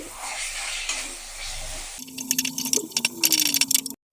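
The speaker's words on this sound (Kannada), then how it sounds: "ಸೊ ಇವಾಗ ಡೀಪ್ ಫ್ರೈ" Egg roll filling seasoned with garam masala fries in hot oil, a dense hissing sizzle for a couple of seconds, then gives way to clattering, tapping utensil sounds before a sudden stop.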